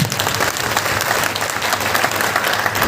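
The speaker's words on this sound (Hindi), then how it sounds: "सर के सम्मान में थोड़ा तालियां।" A seminar audience in Agra breaks into sustained applause, many hands clapping together in a thick, even roar that stays loud throughout and eases slightly at the very end.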